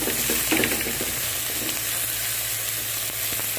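Pieces of Jamaican oxtail frying in a pan, a steady, close, loud sizzle with crackling pops throughout and no talking.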